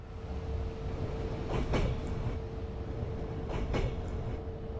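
A train in the game Train Simulator 2014 gradually slows, giving a steady low rumble with a constant electrical hum and two brief metallic clunks about two seconds apart.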